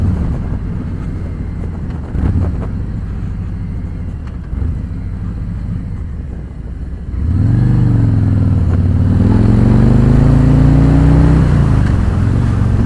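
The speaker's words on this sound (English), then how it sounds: "The sound of this bike is what I was expecting" A Harley Davidson Road King rumbles steadily while being ridden, a low engine drone under buffeting wind, then swells louder as the rider opens the throttle and the tone climbs and shifts through the revs.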